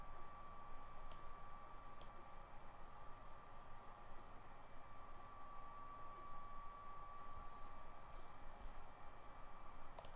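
A computer mouse gives a few sparse, faint clicks, near 1, 2 and 8 seconds, over a steady electronic hum and background noise.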